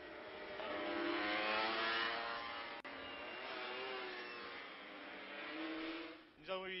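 Kawasaki racing motorcycles in a 1978 one-make cup race accelerating hard, engines whining in a rising, sustained roar that swells and fades as they pass, with a brief squeal near the end.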